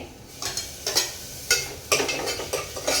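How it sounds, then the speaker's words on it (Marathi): Onion sautéing with a crushed ginger, garlic and chilli paste, soft sizzling under a run of sharp spatula scrapes and taps against the pan, close up and without speech. "आणि वाटण सुद्धा ना कांद्यासोबत छान परतून घेणार आहे।"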